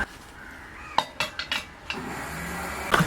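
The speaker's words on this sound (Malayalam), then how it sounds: "അച്ചാറിൻ്റെ പരിപാടി ചെയ്യാനായിട്ട് ഇനി വേറൊരു ചട്ടി വെച്ച് കൊടുക്കാം നമുക്ക്." A chatti for making prawn pickle being set on the stove, a few sharp metallic clanks and knocks of cookware in a quick cluster, then quieter kitchen clatter, faint and close, with no talking.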